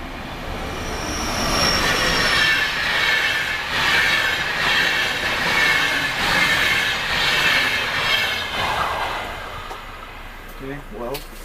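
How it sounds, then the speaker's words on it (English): Passenger train pulling into Hyvinkää railway station, a steady loud rolling rumble with wheel squeal and clatter that fades near the end, with a voice speaking over it. "there comes the train"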